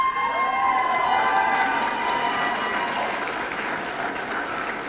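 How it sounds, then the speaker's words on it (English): Audience at a GED graduation ceremony applauding, a dense continuous wash of clapping that holds steady for several seconds and eases slightly toward the end. "Please applaud."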